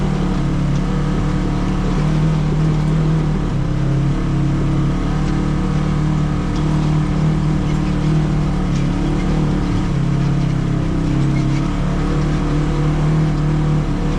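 A vehicle grinds up a bumpy, rocky trail of loose gravel with hairpin turns on the way to Rice Peak, its engine a loud, steady drone that runs throughout with no talking.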